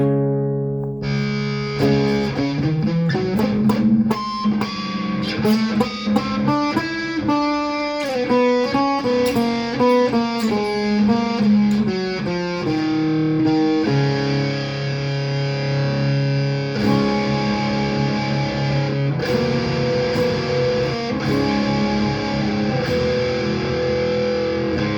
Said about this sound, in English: now, do we want to hear what it sounds like with distortion?